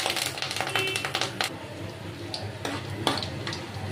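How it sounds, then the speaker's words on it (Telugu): Mustard seeds, cumin and curry leaves fry in hot oil, a dense crackling sizzle with popping seeds and occasional utensil taps, close and steady. "ఇది కొంచెం ఫ్రై అవ్వాలి."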